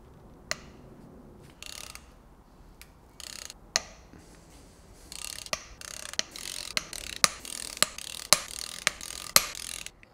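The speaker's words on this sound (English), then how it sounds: "When you're removing the head bolts, you're going from 10 to 1." A ratchet loosens the cylinder head bolts on a supercharged BMW V8 engine, a series of sharp, close clicking bursts and snaps that come faster and louder toward the end, with brief pauses between turns.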